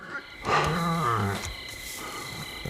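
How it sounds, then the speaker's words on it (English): Coyotes howling in a film scene, long wavering cries that slide up and down in pitch, fairly loud and close, then fading into quieter background noise. "It's just coyotes."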